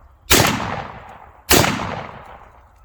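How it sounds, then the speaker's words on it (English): Two loud shotgun blasts from a Remington Mohawk 48 fired at a platform, spaced about a second apart, each a sharp crack followed by a long echoing decay, with no talk. "so we're just going to shoot at this platform here"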